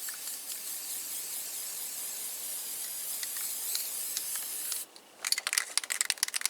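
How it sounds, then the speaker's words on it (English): A can of cheap spray paint hisses in one long continuous blast onto a steel shooting target on a cold day, then breaks into short sputtering spurts near the end. "spray paint right here"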